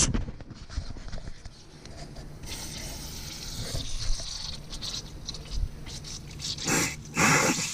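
Pressurised water bursts from a tractor tire being filled through a hose to add traction, gushing and spraying in loud surges near the end after a quieter hiss and patter.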